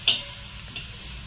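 Green chillies and vegetables lightly frying in a pan for fried momo filling, a steady soft sizzle with a sharp scrape or stir near the start and another faint one later.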